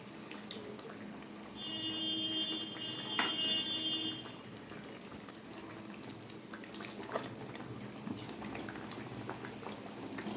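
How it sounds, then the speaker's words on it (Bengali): Fried fish pieces simmering in a boiling curd-based curry gravy for doi katla, a steady bubbling burble with a brief pouring or clinking accent early on, close and fairly quiet, no talk. "ভেজে রাখা মাছগুলো দিয়ে দেবো ঝোলের মধ্যে।"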